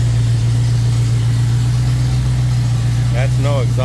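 A truck engine runs with no exhaust fitted, giving a loud, steady low drone throughout, with a voice cutting in briefly near the end.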